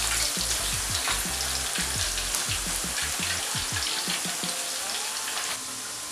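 Plantain slices for chips fry in hot oil, a loud continuous sizzle with crackling pops and repeated clinks and scrapes as they are stirred and turned.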